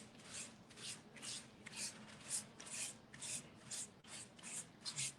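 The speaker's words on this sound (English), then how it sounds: "Sanding it is the most time consuming" Sandpaper scrapes wood by hand in about a dozen steady back-and-forth strokes, a soft rhythmic rasping heard close and quiet.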